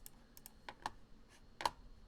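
Several light, sharp computer mouse clicks, irregularly spaced and quiet, with soft faint taps between them and no voices.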